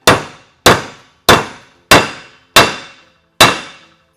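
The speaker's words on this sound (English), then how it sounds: "I've just about got the bearing seated, and when I get to the bottom, it'll make a different sound." Bearing hammered down onto a stem until seated, six loud metallic clangs spaced about two-thirds of a second apart, each ringing briefly and decaying, with no talk.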